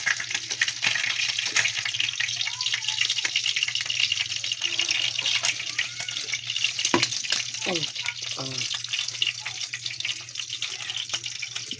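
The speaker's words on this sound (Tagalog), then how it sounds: "Ikutin lang hanggang sa matapos." Ginataang isda, a fish stew in coconut milk, being stirred in a pan, with a steady close sizzle and bubbling throughout and a few soft scraping stirs near the middle.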